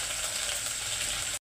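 Curry leaves hitting hot oil with mustard seeds, cumin and garlic, a loud, even sizzle close by for just over a second before cutting off abruptly.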